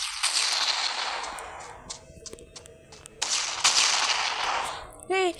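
Cannon fire in a mobile strategy game, Clash of Clans, comes as dense bursts of crackling blasts in two clusters with a quieter gap between, followed by a short bright chime at the end.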